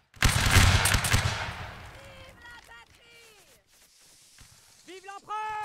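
A crashing musket volley fired by a line of infantry in Napoleonic Wars opens loud and dense, then decays into a scattered tail, followed by distant shouting voices.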